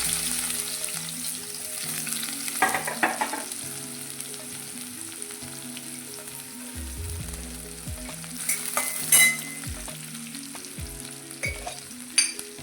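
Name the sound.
onion frying in oil with mustard seeds and cumin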